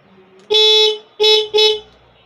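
A dual horn on a Honda RS 125 Fi motorcycle sounds three loud blasts while being tested: one long honk, then two shorter ones close together, each stopping abruptly, with low background noise between.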